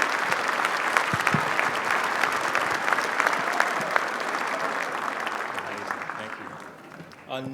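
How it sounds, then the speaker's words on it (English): Sustained audience applause fills a swearing-in ceremony for county elected officials, dense steady clapping that slowly thins toward the end with a few voices rising near the close. "Another round of applause, please, for Karen and for Michelle."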